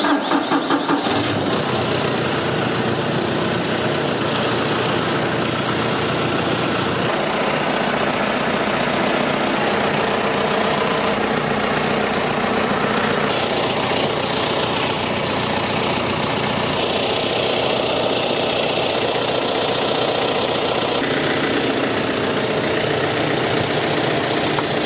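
A tractor engine starts and runs steadily while compacting wrapped bales into bundles, a loud mid-pitched continuous drone with shifts in load and no talk.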